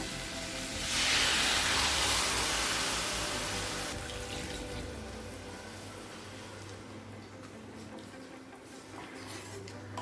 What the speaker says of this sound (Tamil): இப்போ 2 கப் தண்ணி சேர்த்துக்கலாம்.